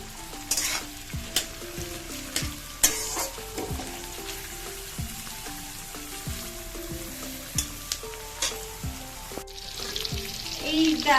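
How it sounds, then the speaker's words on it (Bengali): Vegetables sizzling with salt in a hot frying pan, with repeated scraping stir strokes of a spatula cutting through a steady crackle, close and fairly quiet. "সবকটাকে একসঙ্গে ভালো করে ভাজবো"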